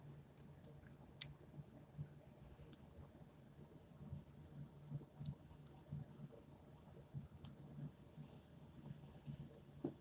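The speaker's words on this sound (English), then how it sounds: "I'm using a straight toenail clipper and I'm just going to cut in a straight line" A straight toenail clipper snipping acrylic gel nails on a practice hand, a few sharp distinct clicks, one louder, spread over quiet handling noise close by.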